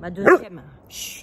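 A pet dog barks once, sharp and close, then gives a faint yip, while someone speaks French and hushes it in a home setting.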